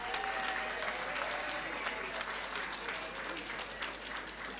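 A large audience applauds steadily at a forum on women in government and media, the dense clapping holding at an even, loud level throughout without letting up.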